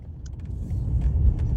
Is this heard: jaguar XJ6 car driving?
yes